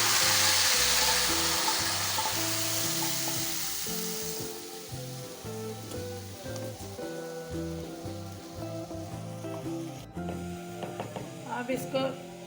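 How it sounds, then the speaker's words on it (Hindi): Garlic and a few green chillies frying in oil in a pan for dal, a steady bright sizzle that slowly eases, with someone talking over it throughout. "इसको लाइट ब्राउन सा करना है लहसुन को।"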